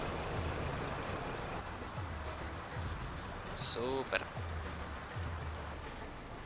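Steady, even rain patters down in the trucking video game Euro Truck Simulator 2, a constant hiss throughout, with a short spoken word and a couple of faint game tones in the middle.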